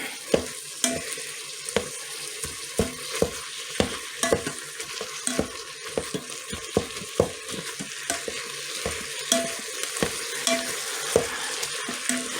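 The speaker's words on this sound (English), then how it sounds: "And chop this meat just a little bit more." Homegrown ground beef is chopped and stirred in an Instant Pot, a steady series of scraping, tapping utensil strokes over a soft sizzle, close by with no talk.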